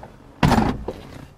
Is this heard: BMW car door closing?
yes